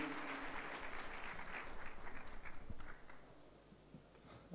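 Applause from a tech conference audience in Bucharest on the main stage, a dense steady patter of many hands that fades out toward the end.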